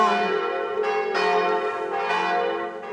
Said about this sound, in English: You like the bells?